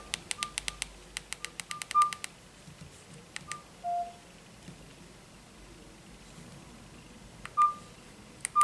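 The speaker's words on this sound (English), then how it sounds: "Keypad tones." Keypad tones from a Nokia 125 mobile phone: quick runs of short electronic beeps as keys are pressed, then sparse isolated blips and a few longer tones, close up with no speech.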